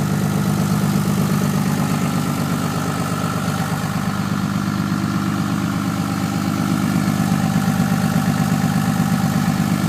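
2007 Ram 3500 truck engine idling after a cold start at about -14 degrees Celsius, a steady, close, continuous low rumble with even vibration and no voices.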